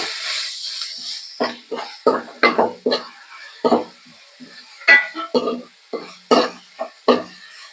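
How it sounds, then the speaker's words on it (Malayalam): A spoon stirs crushed green chillies in a pan while making Kerala-style chicken curry, scraping in a string of short, uneven strokes against the metal with faint sizzling between them, close and with no talking. "ഇതിന്റെ പച്ചമണം ഒന്ന് മാറണം, അതുവരെ ഒന്ന് ഇളക്കണം."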